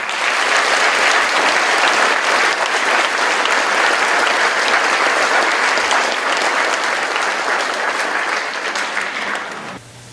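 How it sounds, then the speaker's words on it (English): Sustained applause from a large audience at a climate change conference, loud and dense throughout before tapering off at the very end. "Please give another round of applause for this exceptional artist"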